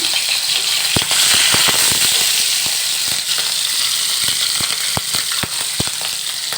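Shrimp fry with green chilies in hot mustard oil, making a loud continuous hiss broken by sharp, irregular crackling pops throughout.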